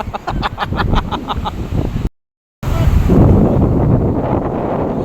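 Big ocean waves roll in at sea, heard as a loud, rough wash buffeted by wind against the microphone, with a brief dropout in the middle and some faint background voices.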